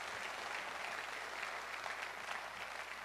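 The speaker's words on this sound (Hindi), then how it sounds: "एक बार जोरदार तालियां हो नेस्विज आयोनाइजर के लिए" Audience in a product presentation hall applauding a water ionizer, a continuous, even roar of many hands clapping throughout, fairly loud and without voices.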